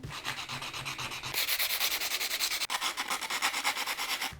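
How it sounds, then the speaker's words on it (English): Sandpaper rubbed back and forth along the jagged cut edge of a glass mirror, a close, steady rhythmic scratchy rasp in quick repeated strokes that grows slightly louder partway through, with no voices. "we're gonna use some sandpaper and a freaking mask to smooth these edges"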